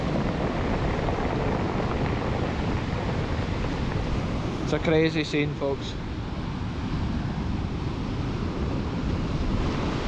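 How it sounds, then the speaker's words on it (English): Storm waves and strong wind batter the Scottish coast during Storm Ashley, a constant roaring rush of surf and wind buffeting the microphone, while someone briefly speaks over it midway. "it seems to be when the bigger waves come, you hear them"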